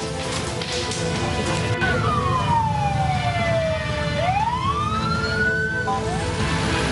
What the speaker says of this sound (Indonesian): Lima unit mobil pemadam kebakaran diterjunkan untuk padamkan api.